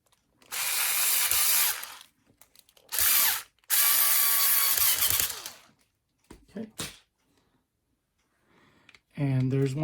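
A power screwdriver drives a step screw into a Tamiya WR-02 gearbox, three loud whirring bursts with short pauses and lighter plastic clicks, followed by a brief voice at the end.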